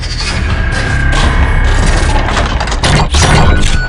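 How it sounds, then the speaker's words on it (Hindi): A cartoon robot turned tank fires a dense, loud stream of bullets, the gunfire blending into a harsh, continuous crackle with sharp bursts and booms. "और उन म्यूटेंट्स पर ताबड़तोड़ गोलियां बरसाना शुरू कर देता है।"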